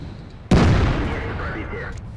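In the online tank battle game World of Tanks, a single heavy tank cannon shot booms suddenly, loud and close, followed by a rumbling decay lasting over a second.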